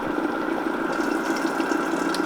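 An electric mixer whirs steadily while beating an egg mixture for homemade mayonnaise, a continuous, even motor hum that stays close and loud the whole time.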